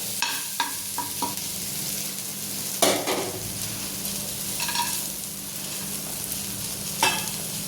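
Grated coconut roasting in oil in a pan, an even, close sizzle running throughout, broken by a few spatula taps and scrapes, with nobody speaking.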